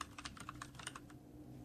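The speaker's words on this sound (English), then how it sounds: "quite enjoyable to type. It's very similar to the Cherry MX Browns." Typing on a Poseidon Z RGB mechanical keyboard fitted with tactile Kailh Brown switches: a quick, irregular run of close clicky keystrokes for about a second, then quiet.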